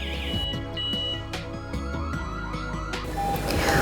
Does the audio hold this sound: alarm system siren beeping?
yes